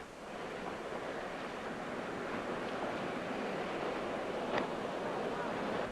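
Ocean waves washing along the coast near a pod of bottlenose dolphins off South Africa, a steady broadband surf wash with some wind noise, continuous and moderately faint, with no speech.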